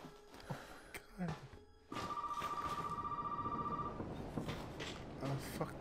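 In Resident Evil 7, an old telephone's bell rings in one sustained burst within the game scene. Footsteps and a player talking over the game sounds surround it.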